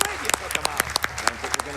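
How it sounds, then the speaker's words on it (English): A crowd at a live speedrun marathon event claps in a brief round of applause, with scattered individual claps ringing out close by. "Yes, round of applause."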